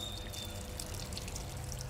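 A Panasonic top load washing machine fills with water, a steady trickling and splashing with faint drips, close and continuous for the short stretch.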